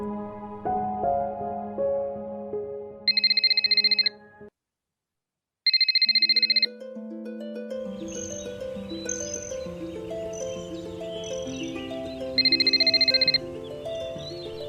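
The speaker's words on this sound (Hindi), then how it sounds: "ये हमारा फोन भी नहीं उठा रही है।" A telephone rings in repeated electronic bursts, each about a second long, and goes unanswered over soft background music, with a silent gap between two of the rings.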